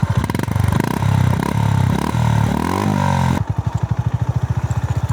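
A 2025 Honda GB 350S motorcycle on stock road tires rides off-road, its single-cylinder engine revving and shifting through gears with clattering over rough ground, then settling into a steady, loud, rhythmic thump close by.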